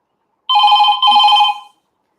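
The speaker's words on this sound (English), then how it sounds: "we have some delivery notification" A phone delivery notification rings out loud and close, two even electronic tones back to back with a brief break between them, then silence.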